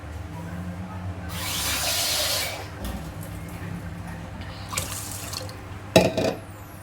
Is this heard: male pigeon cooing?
no